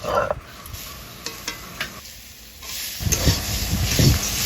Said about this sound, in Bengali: মা যে পটলটা কুড়িয়ে রেখেছিল সেটা দিয়ে দিল, তারপরে আলুটা দিয়ে দিল, তারপরে সুন্দরভাবে দুটো মিক্স করে নিল